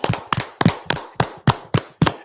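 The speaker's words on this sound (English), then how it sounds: "Let's clap it up again." People clap their hands in a quick, steady rhythm of about eight sharp, close claps in roughly two seconds, with no talking.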